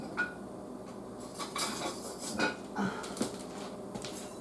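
Whisk stirring homemade hand sanitizer in a bowl, giving quiet, irregular metallic clinks and scrapes at close range, with no voices.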